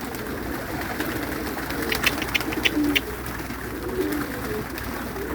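Newly hatched young birds, likely pigeons or doves, call at feeding time, a short flurry of high chirps over steady low background hum and faint cooing.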